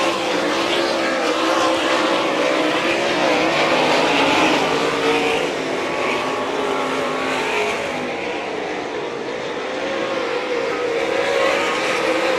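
Sprint cars racing around a quarter-mile dirt track, engines roaring continuously and loudly as the pack circles, with a commentator's voice over the din.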